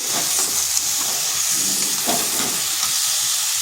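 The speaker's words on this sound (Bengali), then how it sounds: "এরপর ভালোভাবে কষে নিচ্ছি এটা বেশ কিছুক্ষণ সময় ধরে এইভাবে কষে নিতে হবে" Ridge gourd curry sautéing in a pan gives a steady, close hiss and sizzle throughout, with faint clinks and stirring scrapes and no talking.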